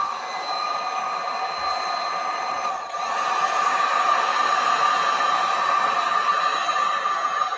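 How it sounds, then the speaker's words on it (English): A heat gun blows steadily on EVA foam, a continuous airy roar with a faint whine that stays loud and close throughout, swelling slightly after a brief dip. "But then you take El Senor heat gun."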